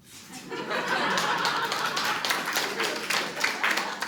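Audience at a Ukrainian stand-up comedy show claps and laughs together, a dense, loud burst of applause that rises quickly and holds steady, with chuckles mixed into the clapping.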